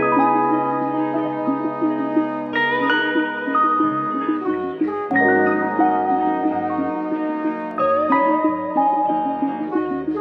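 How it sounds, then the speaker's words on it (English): Boom bap beat built on chopped, reverb-soaked lo-fi guitar sample chops, sustained harmonic chords shifting every couple of seconds over a steady low end, played loud and continuous with no voices. "So that guitar sample, along with all the other chops, they sound like this"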